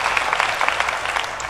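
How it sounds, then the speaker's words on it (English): Broad crowd applause in a large hall at a DEF CON hacker conference, a steady, dense wash of many hands clapping without a break, with no speech over it. "Let's give him a round of applause too."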